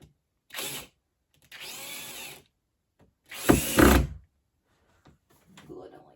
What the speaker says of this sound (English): I'm just going to go ahead and use the electric screwdriver, or handheld screwdriver, electric one